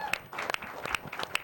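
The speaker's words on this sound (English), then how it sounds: "Can we have a round of applause for Mr." Audience applause on a midnight variety show after a guest is introduced, moderate and scattered with sharp clap peaks, fairly close, with a voice faintly present underneath.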